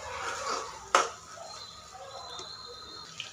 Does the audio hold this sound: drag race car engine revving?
no